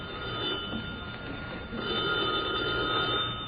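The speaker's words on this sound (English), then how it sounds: "Answer the phone, Eddie, and tell him that I'm still quitting" A telephone bell rings steadily and loudly for several seconds, a continuous bright electronic trill with no talking over it.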